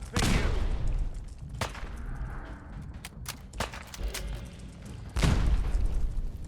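Grenade blasts in Fallout 4 boom through a firefight, with a heavy explosion at the start, sharp gunshot-like cracks in the middle and another loud boom near the end.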